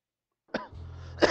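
A person coughs twice, a short cough and then a harsher one about a second later, close and loud, over a low steady engine drone from the Need for Speed Underground 2 racing game.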